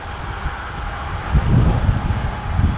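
High wind at a roadside park buffets the microphone, producing low gusty rumbles that swell and fall, stronger in bursts toward the middle and end.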